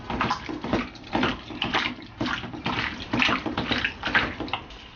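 Clean water runs and splashes over pork small intestines being rinsed in a small basin, a steady, close, sloshing stream with rhythmic swells as the intestines are worked by hand, no talking.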